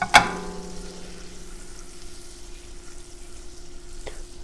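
Lingcod pan-sears in butter and wine, opening with a sharp sizzle burst that settles into a soft, steady frying hiss, with a faint clink near the end.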